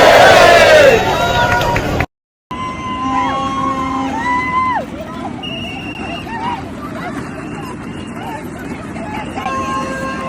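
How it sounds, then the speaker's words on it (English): Protesters crowd a London street, a loud hubbub of voices and whoops near and far, with a short silent break before the crowd noise returns steady under scattered shouts. "Give us a cheer!"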